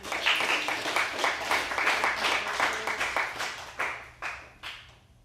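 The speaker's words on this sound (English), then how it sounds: "let's give a round of applause" An audience at a devotional music gathering in a studio claps as a sustained round of applause that thins into a few scattered claps and fades out.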